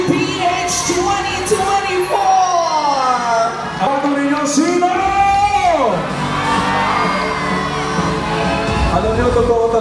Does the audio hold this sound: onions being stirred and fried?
no